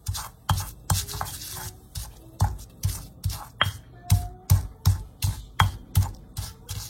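Salt and two garlic cloves ground into a paste in a stone molcajete, with a steady rhythm of about two gritty, scraping pestle strokes per second, close and alone.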